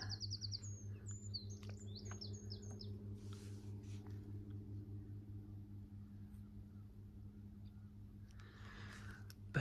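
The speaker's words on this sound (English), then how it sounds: "There's 7 or 8 willow warblers along here." Several willow warblers sing bright descending phrases close by in the first two seconds in Coombe Bottom, Ventnor, over a steady low engine hum, then fade to sparse calls.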